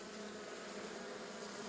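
Bees at a hive drone in a continuous, even buzz, a dense steady hum with no breaks, fairly faint but filling the whole moment.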